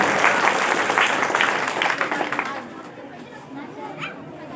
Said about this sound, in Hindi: उनके नाम एक बार जोरदार तालियों के साथ